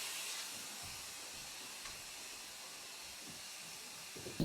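A central vacuum cleaner runs on site during a retrofit, giving a steady, fairly quiet airy hiss that holds even throughout, with a brief louder bump at the very end.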